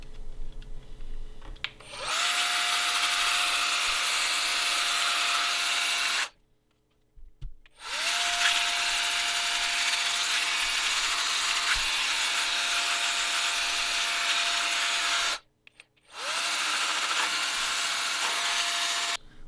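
Steady whirring buzz of a small rotary cleaning tool working over a Nintendo 64 circuit board, running in three long bursts separated by short silent pauses, close and fairly loud with no talking.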